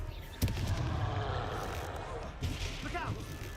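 Confringo blasting curse exploding in a Harry Potter video game, a sharp burst followed by a dense roar of crackling magical effects, with a second impact and a brief voice near the end.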